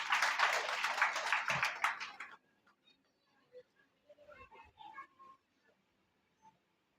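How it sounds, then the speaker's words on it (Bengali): An audience claps loudly together at an award ceremony for a few seconds, and the applause then breaks off into scattered distant murmurs and small noises in the hall. "তার জন্য আরেকটা জোরে জোরে করতালি হোক।"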